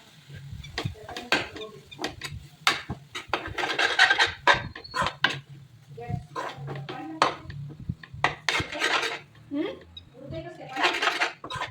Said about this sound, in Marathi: कांदा फ्राय झालेला आहे ते आता मी आज टमॅटो टाकणार